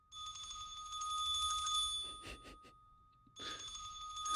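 A bell sample from the Spitfire BBC Symphonic Orchestra percussion library, played in bright, ringing bursts that sound like a telephone, with short metallic taps in a gap before the ringing returns.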